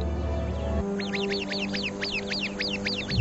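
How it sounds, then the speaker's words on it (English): A sentry bird's alarm call rings out as a rapid run of harsh, quacking cries, about a dozen close together, loud and near after a brief lower rumble. "The sentry bird immediately sounds the alarm."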